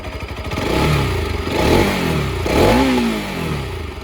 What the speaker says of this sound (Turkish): Stok egzozun sesi bu şekilde.